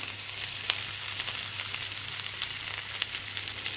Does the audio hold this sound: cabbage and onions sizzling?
yes